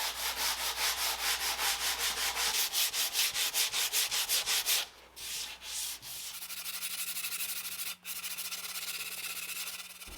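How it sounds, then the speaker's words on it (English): Orbital sander working over raised grain on a vintage teak table, a steady close buzzing rasp with a rhythmic pulse, pausing briefly midway before resuming its even whir. "then slowly sand the raised fibers"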